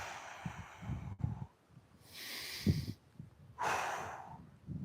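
Deep breathing-exercise breaths taken outdoors on a sunny, windy day, two long forceful exhales standing out over low gusty wind rumble, close and fairly loud, with no talking.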